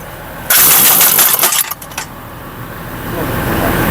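A vehicle engine, apparently at a Nakhon Phanom tyre-repair shop at night, surges in a loud rev burst lasting about a second and a half, then drops back to a steadier idle with rising background noise; voices are present around it.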